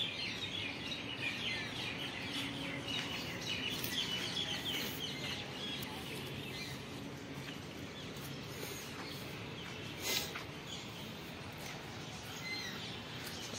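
Caged birds including a parrot and a myna kept at a dairy in Gwalior, with scattered chirps, squawks and clucking calls, some close and some farther off, over a constant outdoor hiss.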